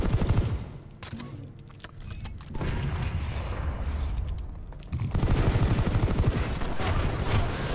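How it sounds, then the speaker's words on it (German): Rapid, sustained gunfire in the video game Planetside 2 rattles loudly in dense bursts, with a brief lull before heavier firing resumes. "Hörst du Schüsse?"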